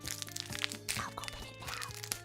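A choco peanut bar snack wrapper crinkles and crunches as it is torn open, close and crisp, with several rustling tears and small cracks over a couple of seconds.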